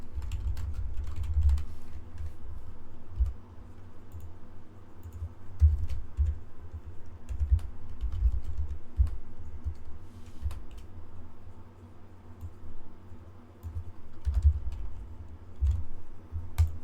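Light, steady keystrokes tap on a computer keyboard while metadata is entered for a Minecraft Bedrock add-on. The clicks are close and crisp over a constant low rumble, with no talking.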